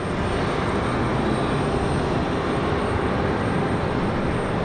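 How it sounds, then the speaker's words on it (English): An Avelo jet takes off at night from Raleigh-Durham airport, giving a loud, steady, broadband engine roar that holds constant throughout, with no talk. "Okay, so Avelo's back in the air."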